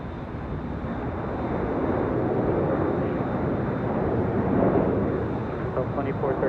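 An airliner takes off from runway 24 Left at LAX, a steady, distant broadband jet roar that holds for the whole stretch and swells slightly near the end, heard from a hotel rooftop.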